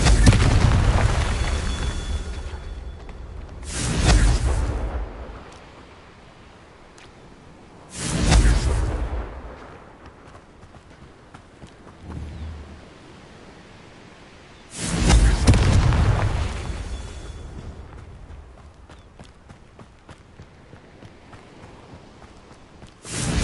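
Confringo blasting spells from the Hogwarts Legacy video game, heard as four booming explosive bursts spaced a few seconds apart, each loud and sudden with a rumbling decay, over quiet background between blasts.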